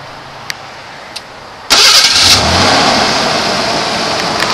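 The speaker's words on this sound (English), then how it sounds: "All right, fire it back up." A Ford Bronco II with about 317,000 miles cranks and fires up with a sudden loud burst, then settles into a steady, rough idle close by.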